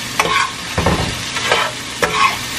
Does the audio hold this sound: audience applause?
no